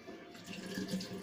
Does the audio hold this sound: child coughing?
no